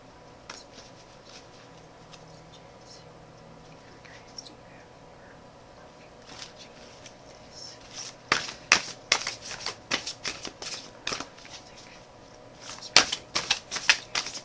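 Tarot cards are shuffled close by, with faint, sparse handling sounds that build into rapid bursts of riffling and snapping toward the end.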